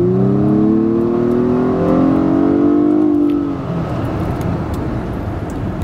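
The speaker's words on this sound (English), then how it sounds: "I'm just going to rev this thing for just a second and listen to the high-pitched squeal it gives you." A car engine revs hard at a car show, its loud rising whine with a high-pitched squeal lasting about three and a half seconds before dropping back to a steady, rumbling idle close by.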